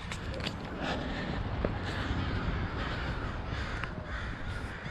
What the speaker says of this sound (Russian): Птички кричат опять, достают вас.